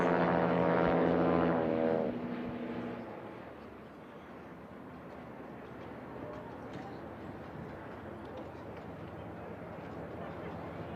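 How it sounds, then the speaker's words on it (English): A Kitfox STOL light plane with a propeller engine runs a drag-race heat, its engine drone strongest at the start and then fading to a steady distant hum over wind-like noise, with commentators talking over it. "And now we've got Brian Bowen out in his Stol Fox."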